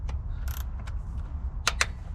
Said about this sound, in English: here goes all the pan bolts.